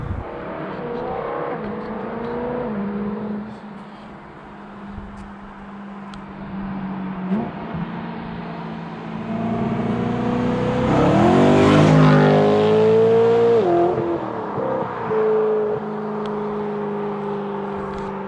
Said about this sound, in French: T'as l'impression que le V8 il s'arrête jamais, c'est un truc de fou.